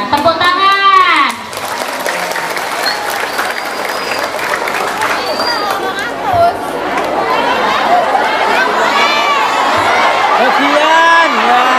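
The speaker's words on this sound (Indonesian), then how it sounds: "Nah, tepuk tangan." Crowd applause at a religious gathering in Indonesia, loud and dense clapping mixed with cheering, whoops and lively chatter throughout, with voices rising over it.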